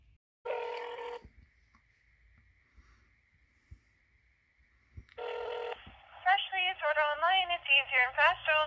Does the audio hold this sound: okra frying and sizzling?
no